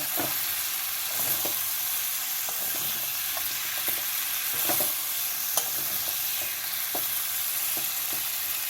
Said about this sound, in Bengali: চিনি দিয়ে নাড়াচাড়া করে নেব।